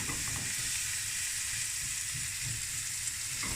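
Vegetables sweat in butter in a pan for an egg omelette, giving a steady, close, continuous sizzle and frying hiss with no pauses and no voices.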